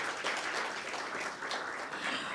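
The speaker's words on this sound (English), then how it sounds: "Another round of applause for the amazing work he's doing." Sustained audience applause at a twentieth-anniversary celebration for HealthRight Kenya, a dense, steady wash of many hands clapping at even loudness, heard alone without voices.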